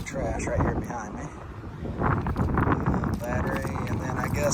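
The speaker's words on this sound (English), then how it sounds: "It's windy out here. I apologize for the noise." Wind buffets a microphone on a beach in uneven gusts, a rough low rumble under someone speaking throughout.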